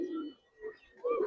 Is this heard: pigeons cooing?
yes